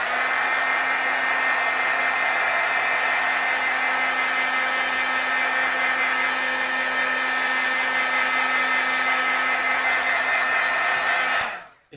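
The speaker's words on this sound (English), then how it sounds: "Let's heat set that one now a little bit." A heat tool blows hot air to set ink on a stamped card, a loud steady hair-dryer-like whoosh with a faint hum that runs without pause for about eleven seconds, then cuts off.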